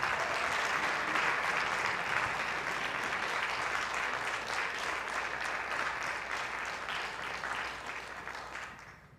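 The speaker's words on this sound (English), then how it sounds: "so that we can give you a round of applause" An audience at a school district address applauds staff who stand to be recognised, a long steady round of clapping in a large room that gradually thins and fades away toward the end.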